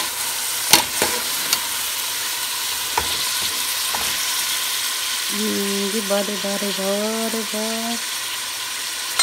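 Food for a kabsa rice dish sizzles in a hot pan while being stirred, a steady crackling hiss with scraping strokes and a few rhythmic utensil rattles, with brief talking.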